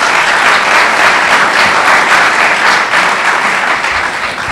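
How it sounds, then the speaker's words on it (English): Sustained applause from the audience at a League of Women Voters candidate forum, a dense even wash of clapping that continues steadily without a break or voices. "please hold your applause from now on until the end of the debate"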